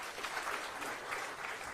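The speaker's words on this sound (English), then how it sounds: "makofi kwake." Applause at a World MSME Day event at KICC in Nairobi, greeting Charles Mativo: a dense, even patter of many hands clapping, sustained and moderately loud throughout with no talking.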